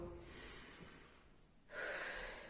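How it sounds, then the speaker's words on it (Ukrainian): Children doing a breathing exercise during an early-years physical education class, drawing air in through the nose and blowing out through the mouth; soft airy breaths and sniffs come in two waves, the second louder and closer, with no talking. "Нагадуємо діткам носики вдихають, ротики видихають."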